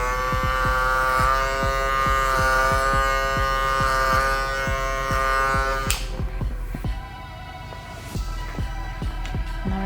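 Electric hair clippers cut hair for a brushback taper, giving a steady, close mechanical buzz with a rapid pulsing rhythm. The tone shifts partway through as the blade moves against the head.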